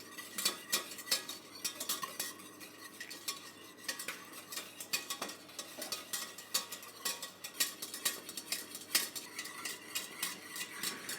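Eggs being whisked in a bowl for a dessert base, a rapid busy run of metallic scraping and clinking that continues steadily for several seconds with no voices.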